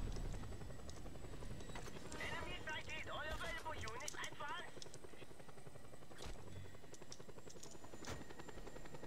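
A slow helicopter in Just Cause 2 makes a steady, droning rotor chop throughout. Voices talk over it, and a brief chirping tone comes partway through.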